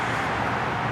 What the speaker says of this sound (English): all the traffic noise you're hearing